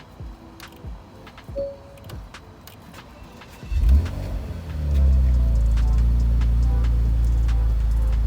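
A Porsche Macan GTS with storm damage starts up: a few clicks and ticks, then the engine cranks and catches, settling into a loud, steady idle close by.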